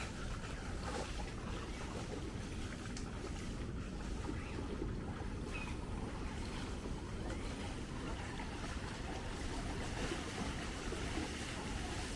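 Released river flood water rushing past at Hari ke Pattan in Punjab, flooding paddy fields and homes, gives a steady, broad roar mixed with wind buffeting the microphone, constant and unbroken throughout.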